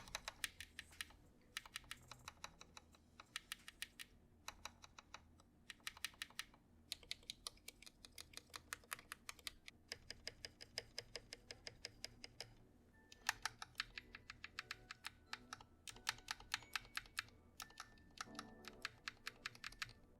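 Steady mechanical typing on a Keychron K6 keyboard during a sound test, with crisp, rapid bursts of keystrokes broken by short pauses, close and clear with no talking.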